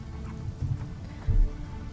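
Rain in the video game I Remember the Rain, a continuous soft patter of drops with a low rumble, broken by two brief dull thumps near the middle and end.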